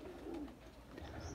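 Golden red-eyed pigeons coo in a low, soft, continuous murmur close by, with a steady background hum and no talking.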